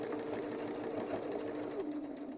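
A sewing machine stitches a quilting pattern, giving a steady, fast mechanical chatter of needle strokes with a low motor hum. It runs continuously at close range with no break.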